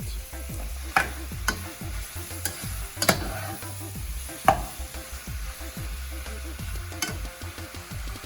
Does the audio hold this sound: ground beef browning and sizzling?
yes